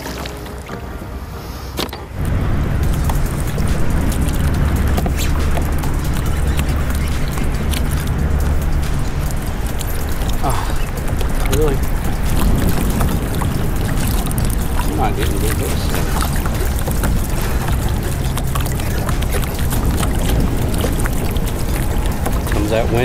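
Strong wind buffets the microphone on a boat while flounder fishing at Oregon Inlet, a loud, steady low roar that starts abruptly after a quieter moment and continues throughout, with talk in places.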